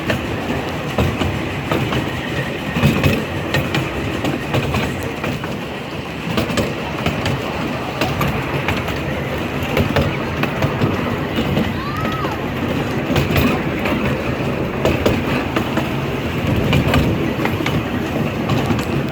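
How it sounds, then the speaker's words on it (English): Riverside and Great Northern pumpkin train rolling along railroad tracks in October, with steady loud rumble and rhythmic clickety-clack of wheels, brief squeals, and faint voices in the background. "Probably my 8th time riding the pumpkin train."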